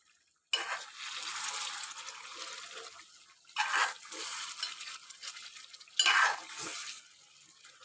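Chicken curry frying in oil is stirred in a pot, with three wet scraping, sloshing bursts separated by quieter sizzling gaps.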